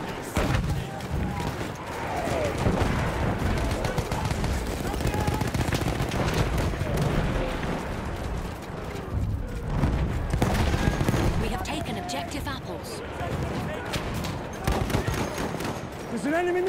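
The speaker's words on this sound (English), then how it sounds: "enemy machine gun!" Dense, continuous gunfire and rapid bursts in the World War I shooter Battlefield 1 game, loud and sustained throughout, mixed with battle noise and shouting voices in the background.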